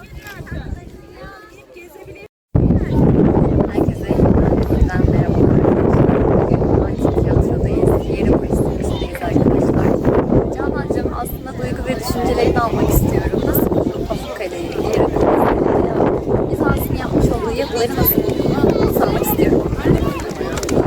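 Loud, blustery wind buffeting the microphone in a constant roar after a brief quieter opening, with voices talking underneath, on a warm day in Denizli, Turkey.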